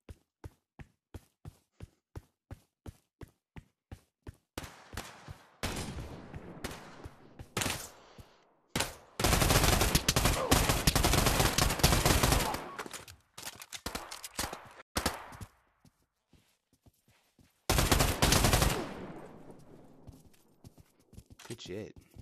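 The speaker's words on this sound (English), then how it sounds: "Oh, it's a combat SMG." A combat SMG fires in the VR shooter game Pavlov VR, first as a steady string of single shots, then as long, loud automatic bursts separated by gaps, with some talking alongside.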